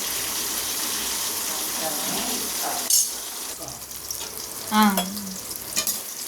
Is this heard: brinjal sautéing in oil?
yes